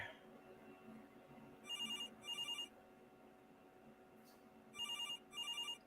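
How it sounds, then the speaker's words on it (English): A phone rings twice in quick double bursts, pauses, then rings again with another pair of bursts, heard somewhat distant over a steady background hum. "Someone didn't turn off his phone today."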